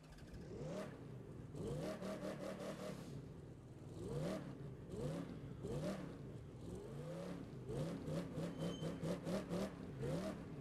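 Dodge Charger engine in The Crew 2 revving repeatedly, with rising pitch sweeps in bursts as the car accelerates and shifts, steady and fairly loud throughout with no talking.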